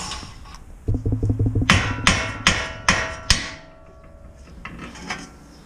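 Top strut bolts are loosened on a 2022 Ford Lightning pickup during a leveling kit install. A short rattling burst is followed by a series of sharp metallic knocks, close and distinct, before it fades to quiet.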